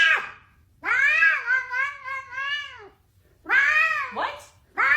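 A cat in an AI-generated animal scene meows several times in long, drawn-out, wavering cries, close and loud, separated by short silences.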